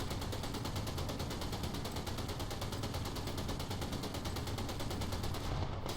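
A 30mm autocannon on the ADATS fires in one unbroken, rapid stream of shots in War Thunder, loud and close for the whole stretch before stopping abruptly at the end.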